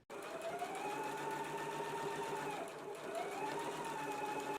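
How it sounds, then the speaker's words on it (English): A sewing machine runs steadily, stitching a 5/8-inch seam allowance along a shirt placket, a continuous close whir whose pitch dips briefly partway through before picking back up. "we will stitch in a 5/8 of an inch seam allowance"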